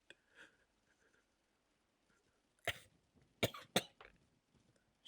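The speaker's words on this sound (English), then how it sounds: "She broke out into another fit of coughs." A woman breaks into a fit of coughing: after a stretch of near silence come a few harsh, quiet coughs in quick succession.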